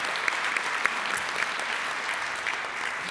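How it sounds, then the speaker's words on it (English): Audience at a Rotary club meeting clapping for a young man named Esteban, a short, even burst of many hands at moderate distance in a room. "So let's give him a round of applause."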